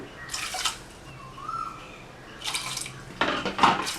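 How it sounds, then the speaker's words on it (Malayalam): Water is poured into a pressure cooker pot of green gram lentils in short bursts, splashing close by, with quiet pauses between pours. "അതിലേക്ക് ഒരു രണ്ടര കപ്പ് വെള്ളം ഒഴിച്ചു കൊടുക്കുവാണ്"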